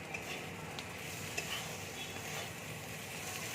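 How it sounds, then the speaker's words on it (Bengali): An evening snack sizzles and fries in a pan after chili flakes go in, stirred steadily with soft utensil scrapes against a constant low frying hiss, quiet and without talk. "আমি ভালো করে নেড়ে নেব।"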